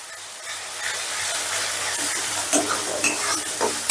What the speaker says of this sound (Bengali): এবার এই পেঁয়াজটাও এই ভাজা পেঁয়াজের সাথে কষে নেব